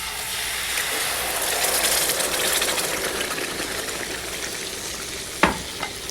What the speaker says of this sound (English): Let's put in our tomato puree.